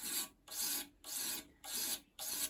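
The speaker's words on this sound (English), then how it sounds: "Now I'm going to concentrate on these nice long intentional strokes here to raise a burr." A carving knife being sharpened to raise a burr: five long, even rasping strokes, each about half a second, in a steady back-and-forth rhythm, close and moderately quiet with no talking.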